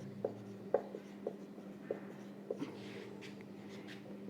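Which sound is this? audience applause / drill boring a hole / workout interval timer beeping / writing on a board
writing on a board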